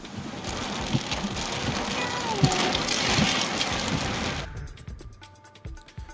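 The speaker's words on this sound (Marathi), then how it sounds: "माळशेलू, खंडाळा, भांडेगाव आणि जयपूर परिसरामध्ये तुफान पाऊस झालाय." Heavy rain pours across a rural district, a dense loud roar of falling water with scattered louder hits, then cutting to a quieter scene after about four seconds.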